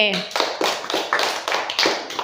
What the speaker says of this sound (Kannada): ಸರಿಯಾದ ಉತ್ತರ. ಚಪ್ಪಾಳೆ.